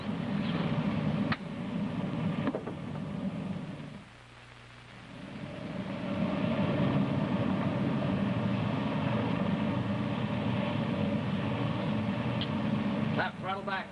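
Spaceship engine effect in an old Space Patrol radio drama, a steady droning hum that dips briefly and then swells back, running continuously under a voice as two ships rendezvous and couple in space.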